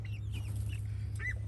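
A Leghorn or Rhode Island Red hen gives a few faint, short clucks in a garden over a steady low hum of background noise.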